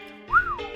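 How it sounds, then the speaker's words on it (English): A short rising-and-falling whistled note from the Dragon Quest 8 video game, sounding once in the background over a soft bed of game music. "you can hear a whistle in the background."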